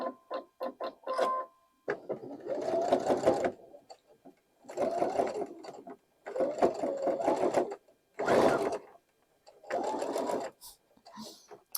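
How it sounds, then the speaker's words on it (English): Bursts of a sewing machine stitching quilt block fabric in rapid runs, stopping and starting several times, close by and fairly loud with short pauses between runs. "let's go to the sewing machine."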